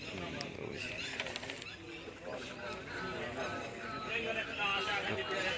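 Racing pigeons gathered at a village fair pigeon-flying contest in Lalluana, Punjab, coo amid a steady outdoor crowd chatter, with people talking close by throughout.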